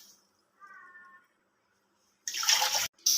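Four cups of water pour into a large kadhai that already holds a cup of sugar, meant for sugar syrup. A short, close, splashy gush follows a brief tonal squeak, then stops and resumes briefly.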